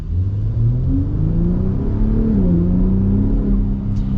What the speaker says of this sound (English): And then you have that with the dual valve, and it is quite the experience. And if we pop the exhaust into Baja mode,